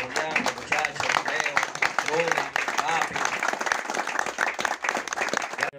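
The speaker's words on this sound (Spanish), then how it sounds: "me den un fuerte aplauso" A crowd at a political rally in Río San Juan, Dominican Republic bursts into loud, sustained applause, dense clapping filling the room with voices mixed in.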